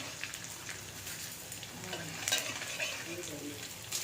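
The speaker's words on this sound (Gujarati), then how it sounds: "ઘી ગરમ થઈ ગયું છે હવે થોડો થોડો ગુંદર નાખી અને તળતા જવાનું છે" Soft, steady sizzling and crackling of edible gum resin frying in hot ghee, with occasional light stirring clinks, fairly quiet and close.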